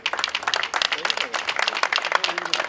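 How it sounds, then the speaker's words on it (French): A crowd applauds steadily at the opening of a pétanque competition, dense clapping from many hands with voices mixed in underneath. "Donc des applaudissements s'il vous plaît."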